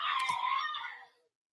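A young boy screams while running around, a single high-pitched, strained cry lasting about a second before it cuts off, heard close and clear with no talking over it.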